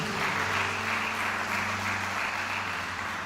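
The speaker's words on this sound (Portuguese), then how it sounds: "Quem pode dar uma salva de palmas para Jesus?" Applause from a church congregation during a Portuguese-language worship service, a dense, continuous wash of clapping held at an even level for the whole stretch with no voices on top.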